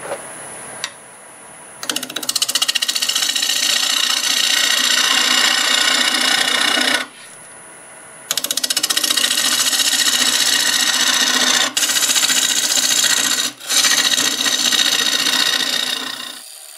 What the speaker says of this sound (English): I'm doing about 980 RPM, same 1/2 inch bowl gouge.